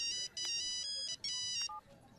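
A phone ringtone chirps in short repeated electronic bursts, fairly faint and alone against a quiet background, ending with a brief lower tone.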